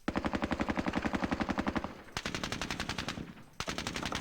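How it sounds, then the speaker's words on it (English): Sustained bursts of M60 machine gun fire in the video game Squad Battles: Tour of Duty, rapid evenly spaced shots rattling loudly with a brief pause before more rounds follow, no talk. "He can actually shoot with his M60 here."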